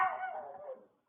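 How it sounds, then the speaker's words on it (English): A dog gives a single short, strained bark or yelp that tails off within a second, picked up by a Ring doorbell camera. "That does seem like the dog kicking off, though, to bark at the thing, because it got spooked by something."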